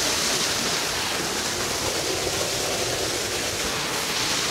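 A continuous broadband roar of rushing water from a waterfall on a river in Bailen, Cavite, Philippines, steady and loud, with no voices.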